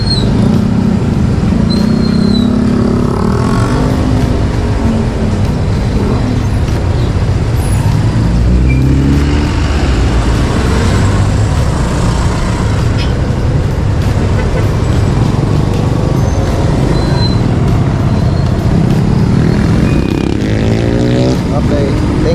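Traffic on the main highway toward Malvar and Lipa: a steady roadway rumble of cars, buses and motorcycles passing close by, with a brief air-brake hiss and engine surges under the constant drone.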